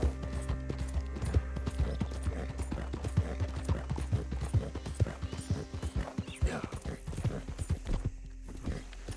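Horse hooves clop in an even walking rhythm in Red Dead Redemption 2, close and distinct over quiet game ambience.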